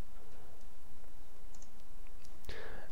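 A computer mouse clicks a few times against a quiet room background, with one sharper, louder click near the end and no talking.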